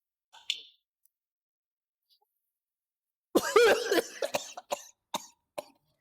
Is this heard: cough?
yes